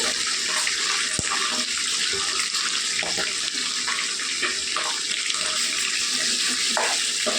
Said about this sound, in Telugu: కొద్దిగా వేగాలండి ఉల్లిపాయలు